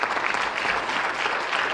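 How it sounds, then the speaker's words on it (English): Steady, dense applause from an audience at a continuing education graduation ceremony, a continuous wash of clapping at even loudness with no gaps. "So I'd like to give a round of applause for that."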